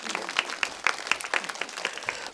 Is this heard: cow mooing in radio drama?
no